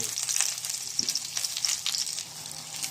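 Onion and garlic with ginger sautéing in a pan for a yellowfin tuna curry, giving a close, steady crackling sizzle with light scraping and stirring noises, no voices.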